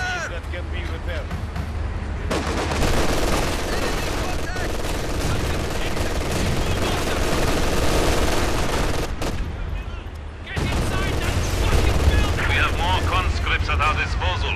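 Sustained machine gun and rifle fire rattles through a Company of Heroes 2 battle in the Soviet campaign, dense crackling bursts continuing for long stretches, briefly cutting out, with soldiers' voices shouting in between.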